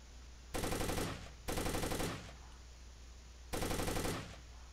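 Three separate bursts of automatic gunfire in Takedown: Red Sabre, each loud and about half a second long with a short echo tail, separated by quiet gaps.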